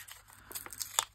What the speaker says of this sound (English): So I'm going to tear a bit of this out.